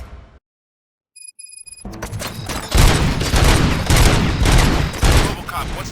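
Gunfire in RoboCop: Rogue City, where a short tone blip over silence gives way to a loud, dense burst of rapid shots and booms that rumbles on through the rest of the clip.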